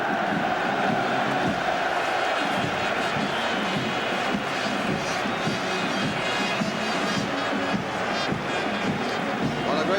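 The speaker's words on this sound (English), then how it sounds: "Cheer from the West Ham fans behind that tunnel" West Ham fans cheering in the stands at Wembley during an FA Cup final against Arsenal, a dense, sustained roar of a large stadium crowd with mixed shouts.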